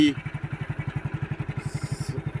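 A motorcycle engine thumps along in a fast, even rhythm while riding uphill, close and steady throughout, with a faint voice briefly heard near the start.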